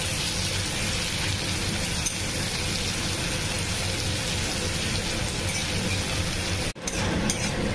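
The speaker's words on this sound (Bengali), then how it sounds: "পেঁয়াজটিকে ভেজে নিব আগে" Three chopped onions fry in hot oil in a pan for a fish curry, giving a steady close sizzle and crackle, briefly interrupted once near the end.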